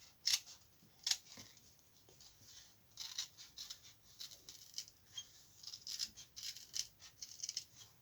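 Scissors snipping through felt while making a felt hen basket, a series of crisp, close cuts with short pauses between them and no talking.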